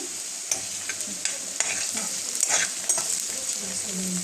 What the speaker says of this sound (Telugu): ఇవి పచ్చి వాసన పోయేంత వరకు వేయించుకోవాలి